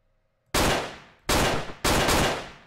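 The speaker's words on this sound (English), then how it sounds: "Of course, I shot the wall." Three loud gunshots ring out in Hotline Miami 2, spaced irregularly after a moment of near silence, each with a sharp attack and a long decaying tail as rounds hit a wall.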